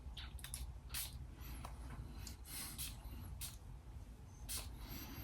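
A bottle of Mancera Red Tobacco Intense perfume sprayed several times in short, soft hissing spritzes, spaced a second or so apart and fairly faint.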